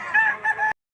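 Yellow-legged rooster at a poultry market in Lipa City, Batangas, crowing once in a loud, close, rising-and-falling call that lasts under a second and then stops abruptly.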